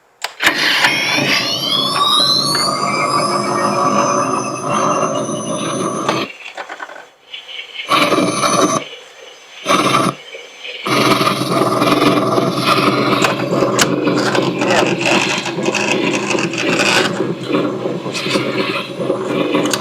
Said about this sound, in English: That is the proton pack, fully up and running.